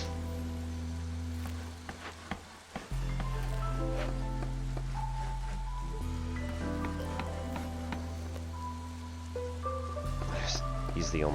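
Steady soft rainfall from the drizzle season in the city-building game Against the Storm, a continuous close hiss of drops spread over sustained low musical tones, with a brief dip near the start before the patter resumes evenly.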